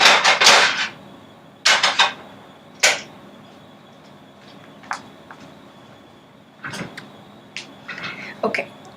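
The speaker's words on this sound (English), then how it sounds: "You're going to hear a clang." Several sharp metallic clangs and clatters ring out, a loud cluster at the start, then sparser knocks and clinks spread through the rest.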